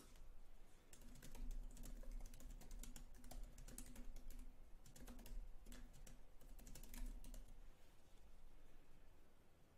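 Someone types text into a snippet content area on a computer keyboard, a quick, steady patter of clicks running for about eight seconds at low volume.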